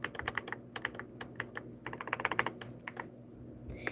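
Names being typed on a computer keyboard, a close, soft patter of irregular keystrokes with short bursts and brief pauses, quiet and with no voice.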